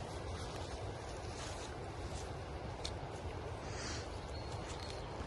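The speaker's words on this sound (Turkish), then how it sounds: "Zaten siz de duyuyorsunuz illaki dere sesi geliyordur." A stream flowing beside a road near a meadow, a continuous broad rushing wash, moderately faint and steady, with no speech over it.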